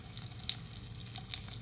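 A sausage and bacon strips crackle and sizzle in a hot frying pan with bacon fat, a steady dense spitting hiss with scattered sharp pops, close up, with no talking.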